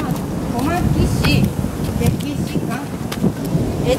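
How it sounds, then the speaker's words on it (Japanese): Low rumbling and gusting wind buffets the microphone outdoors at Komaki Castle on a stormy day, a continuous loud roar with thunder-like swells, while someone talks over it. "雷と風が出てきて上がっていきたいと思います"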